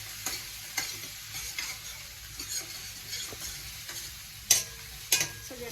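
Onions frying in a pan and being stirred, a quiet continuous sizzle broken by periodic scraping and clinking strokes of the spoon, two of them sharper and louder near the end.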